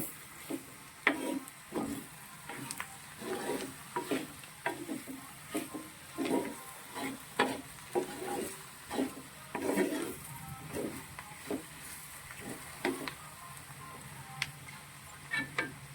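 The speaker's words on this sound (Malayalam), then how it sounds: "ഇതിനെ നന്നായിട്ട് നമ്മളൊന്ന് ഇളക്കി ഈ മസാലയും ഇതെല്ലാം കൂടി നന്നായിട്ട് യോജിപ്പിക്കണം." Clams and masala being stirred together in a pan for a clam pickle, a steady series of soft scraping and tapping strokes repeating every half second or so over a quiet background.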